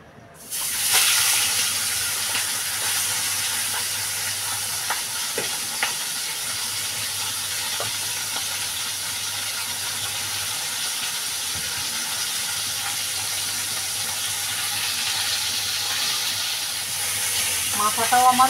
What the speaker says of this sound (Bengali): আমি এবার এই যে মাথা দুটো রয়েছে মাথা দুটো ভেজে নেব।